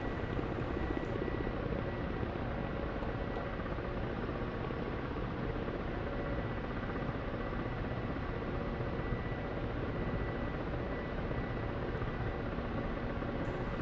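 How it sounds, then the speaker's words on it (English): Ka-50 Black Shark helicopter in flight in the DCS combat flight simulator, a steady, dense rotor and turbine roar that stays loud and even throughout with no voices. "we're here in a K-50 Black Shark, which, at least for now, is my favorite helicopter to fly"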